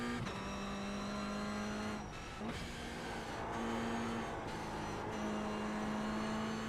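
Toyota GR86 Cup race car at Lime Rock Park, its engine droning loud and steady from inside the cockpit, with pitch dips as it brakes and downshifts before climbing again under throttle.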